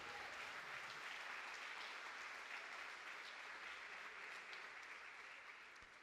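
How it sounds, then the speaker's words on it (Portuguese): A church congregation applauding during a worship service, a broad, steady wash of many hands clapping that fades slightly toward the end. The sound is distant and quiet. "Então vamos aplaudir o Senhor."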